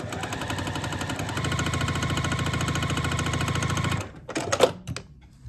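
Sewing machine running steadily and close for about four seconds as half-square quilt triangles are stitched together, then stopping with a few brief clicks and handling sounds.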